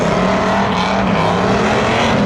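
Drag racing cars at Seekonk Speedway spectator drags, a 1992 Chevy Camaro and a 1985 Chevy Corvette, rumbling loudly with a steady, heavy engine drone close by.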